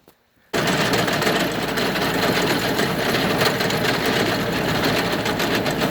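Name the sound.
rotary tiller engine running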